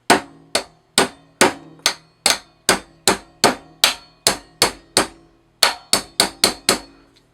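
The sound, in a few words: hammering with a hammer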